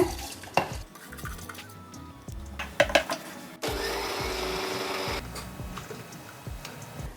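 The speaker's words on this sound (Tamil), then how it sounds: "வாங்க எப்படி அரைக்கிறதுன்னு பார்க்கலாம் பச்சரிசி மிக்சி ஜாரில் சேர்த்துறேங்க" Mixer grinder jar grinding soaked raw rice for Kanchipuram idli batter, a steady loud whirring burst mid-way among clinks and taps of the jar and utensils.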